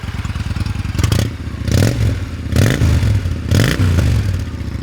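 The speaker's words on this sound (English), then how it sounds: "let me do a quick drive-by for you, and let's see a little exhaust note on this thing." A 2000 Honda VT1100C3 Shadow Aero with its stock fishtail exhaust rumbles past in a drive-by, a low, steady throbbing exhaust note with several swells as it accelerates and passes nearby.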